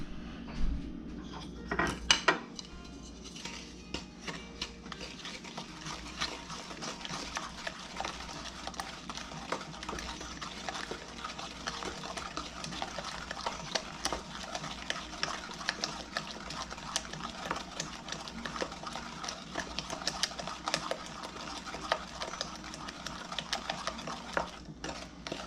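Egg batter mixed in a bowl, a continuous close scraping and stirring with small utensil clinks and a couple of sharper knocks near the start, no speech.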